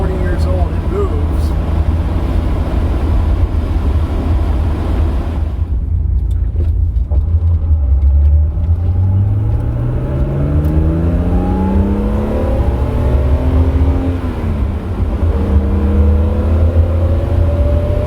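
A 40-year-old BMW E12 M535i with a close-ratio gearbox and limited-slip rear end drives and accelerates, its engine note climbing through gears in rising sweeps over steady road rumble, heard from inside the car.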